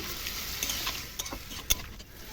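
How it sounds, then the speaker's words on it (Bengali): Spiced masala paste cooking down in a pan for a taro (gati kochu) curry after a splash of water, giving a soft steady sizzle with a few sharp stirring scrapes and clinks. "আমি আরও একটু ভালো করে কষানোর জন্য এর মধ্যে দিয়ে দিচ্ছি অল্প জল জলটা দিয়েও সুন্দর করে কষিয়ে নেব"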